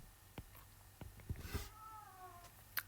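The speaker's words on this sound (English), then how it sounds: "I wonder if you can hear my cat" A pet cat meows indoors a couple of times, faint and a little distant, between scattered small knocks and bumps in a quiet room.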